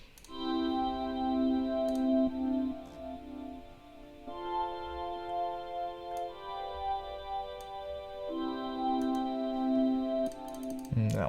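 A sustained synthesizer patch with shaper distortion drones in thick buzzing harmonic chords that shift pitch a few times, with faint clicks scattered through and no talking.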